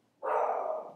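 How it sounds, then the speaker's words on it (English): A single dog bark, loud and close, standing alone against a quiet room during a chemistry lesson. "Okay, I apologize for my dog."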